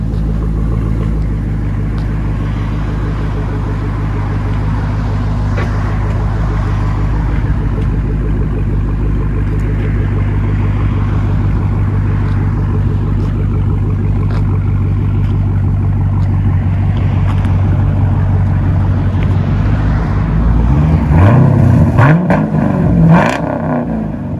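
2013 Chevy Camaro SS with a 6.2L V8 and dual straight-pipe exhaust idling with a loud, steady rumble for a long stretch, then a few sharp revs near the end.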